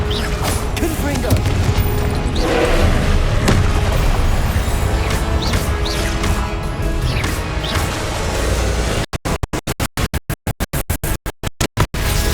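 Crashing, booming blasts of the Confringo explosion spell in Hogwarts Legacy, dense and loud over continuous game noise, followed by a rapid stuttering run of sharp cuts near the end.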